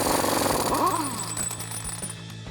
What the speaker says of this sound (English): Now I'm going to take a 36mm axle nut socket to remove my axle nut